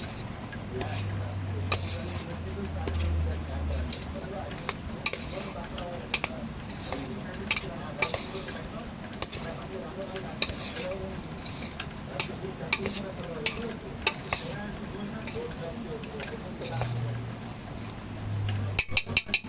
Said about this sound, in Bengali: ভালো করে মাখাতে হবে যেন সব সয়াবিনগুলোর গায়ে লাগে।